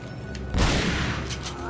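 Gunfire from a weapon in the video game Resident Evil 4: a heavy booming shot followed by a couple of fainter cracks, over a noisy game background with some speech present.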